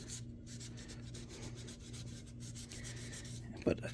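Fine-grit sandpaper rubs over a 1/350 Refit Enterprise model kit in a quiet, close, rhythmic scratching pattern of short strokes, with a small knock near the end.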